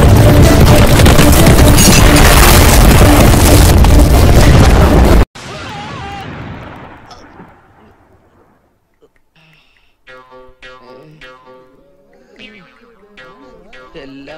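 A firecracker shop goes up in a huge, sustained roaring blast, followed by a long decaying rumble, then scattered clattering and sharp pops as debris and crackers settle.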